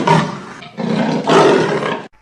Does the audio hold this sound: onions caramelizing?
no